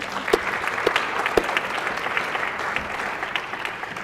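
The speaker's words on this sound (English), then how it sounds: "If not, give them a round of applause anyway." Steady applause fills a senate chamber during a floor session, a dense, even wash of many hands with a few sharper claps standing out near the start, moderately loud and with no talking.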